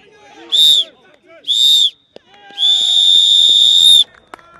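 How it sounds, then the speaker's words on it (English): At an amateur football match, the referee gives the full-time whistle as two short, shrill blasts followed by one long blast. All three are loud and close and stand out over quiet crowd noise. "that's the full-time whistle"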